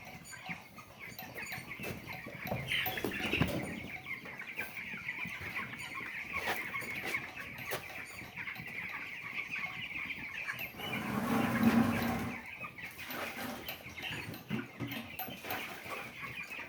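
Young pasture broiler chickens in a brooder house keep up a constant, moderately loud chorus of peeping and clucking, with a few louder bumps and a brief swell of noise near the end.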